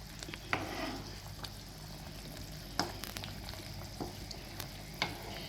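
A pot of thick curry, served over dosa and idli at a Tamil Nadu street stall, bubbles steadily close by with a soft, continuous simmer and occasional louder pops.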